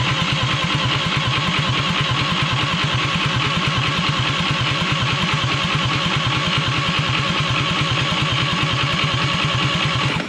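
Old engine cranking over without catching, a steady rapid rhythmic chugging from the starter that runs continuously and loud up close, with no voices.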